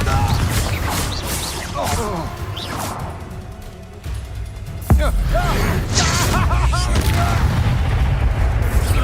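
Hogwarts Legacy combat with a Confringo blasting spell going off amid a dense battle mix of whooshes, booms and crashes, loud and continuous, with a sharp jump in intensity midway and voices and creature cries layered over it.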